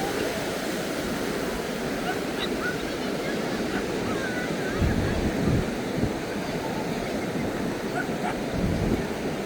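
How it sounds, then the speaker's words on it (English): A small dog barks far off on Waimārama Beach in faint, scattered yaps, nearly buried under constant surf and wind noise. "that little dog over there is going mental. You can hear it all the way from here."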